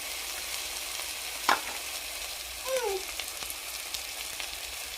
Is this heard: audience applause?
no